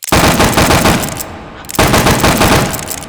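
Single Action Army revolver fan-fired in the H3VR virtual reality shooter: two loud bursts of rapid, close shots, each a fast rattling string of reports, with a short pause between them.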